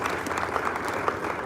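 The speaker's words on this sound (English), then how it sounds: "Come on, clap." Brief applause from a hotel conference audience, a short patter of clapping at moderate distance, fairly soft and steady.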